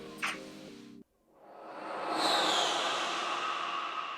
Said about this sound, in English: I thought it could be like a plane passing over your head or something.